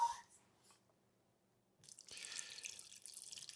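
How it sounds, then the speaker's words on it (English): Water poured into a bowl of sourdough ingredients on a kitchen scale, a steady splashing pour starting after a brief quiet and running on, with a few faint drips before it. "I'm adding 300 grams of water."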